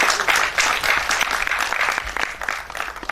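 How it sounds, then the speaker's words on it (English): Dense applause from the audience at the IMA Surat installation ceremony for the new president and his team, a steady wash of many hands clapping close by for about three seconds with no talk over it. "So big round of applause before"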